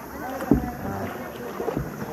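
A small boat on the water at Big Lagoon gives off a faint steady wash of water and wind, with soft thumps and splashes under quiet talk nearby.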